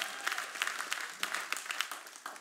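A church congregation breaks into a short burst of applause, dense and close, with some louder individual claps standing out.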